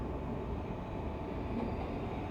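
A train rumbles steadily at Ueno Station in Tokyo, a low continuous rolling noise heard from the platform area amid the tracks and overhead wires, with no voices.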